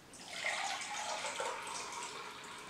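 Water pours steadily into a measuring cup with markings, a continuous close splashing trickle with no talk over it.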